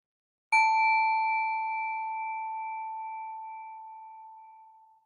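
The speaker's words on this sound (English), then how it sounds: "You'll hear the singing bell both at the beginning and at the end of our meditation." A singing bell marks the start of a yoga meditation, giving one clean strike that leaves a pure ringing tone slowly fading over several seconds in an otherwise silent room.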